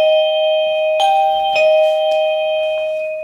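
An AVANTEK wireless garden doorbell rings on two receivers at once, and their synchronized electronic chimes sound as a few clear, loud tones that ring out and fade close by.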